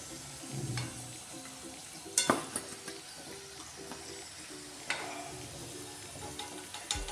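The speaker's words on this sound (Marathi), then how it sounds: "तर लालसर रंग येईपर्यंत तळून घ्यायचा पूर्ण. मीडियम फ्लेवरच तळून घ्यायचं." Kachoris deep-frying in oil for crispy matar kachori, a steady low sizzle with stirring clinks and a few sharper scrapes of a utensil in the pan; no one speaks.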